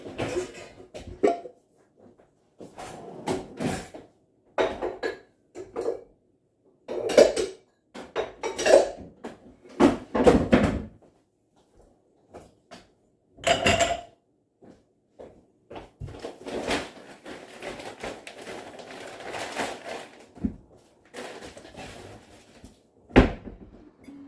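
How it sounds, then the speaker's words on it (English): Dishes, pots and cutlery clatter and cupboard doors open and shut while dishes are put away in a UK home kitchen, a string of separate knocks and clinks with short pauses, close and moderately loud with no talk. "Right, let's get these dishes put away."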